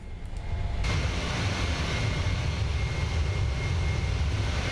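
PMDG 737 jet engines spool up to a loud, steady roar during the takeoff roll in Microsoft Flight Simulator, a broad constant rumble with a brief quieter start before full thrust.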